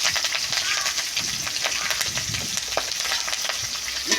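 Cumin seeds, a bay leaf and a split green chilli crackle and sizzle in hot oil, a dense continuous frying hiss with sharp spits and some stirring scrapes close up.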